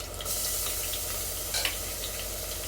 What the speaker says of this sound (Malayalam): ഈ ഉള്ളി ഒന്ന് മൂപ്പിയിട്ട് കുറച്ച് വെളുത്തുള്ളി, ചെറിയ കഷ്ണം ഇഞ്ചി